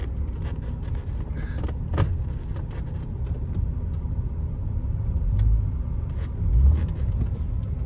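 A Chevrolet Trailblazer, being restored for lost engine power, is driven while it is tried through its gears. The engine rumbles steadily from inside the cabin, with a few low thumps and surges, and no one speaks.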